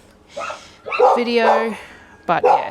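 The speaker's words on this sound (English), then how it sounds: "you can hear the dogs going off again because we've got visitors" Dogs bark in short bursts in the background at the arrival of visitors while a person talks over them nearby.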